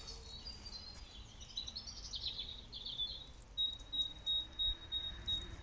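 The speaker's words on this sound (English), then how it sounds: "The birds sound like they're behind me, the ones that are making the most noise." Several birds chirp and sing nearby, with a series of sharp, evenly repeated high tweets toward the end over faint outdoor hiss.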